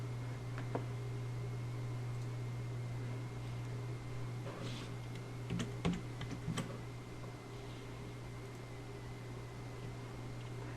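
Typing an album name on a computer keyboard in photo software: a few quiet, scattered key clicks over a steady electrical hum and fan-like background noise.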